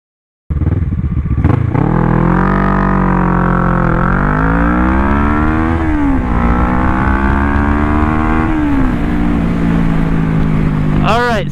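A Kawasaki ER6N 650 motorcycle fitted with Dunlop Mutant tires roars loudly and steadily up close, its engine pitch rising and falling repeatedly as the rider works through the gears.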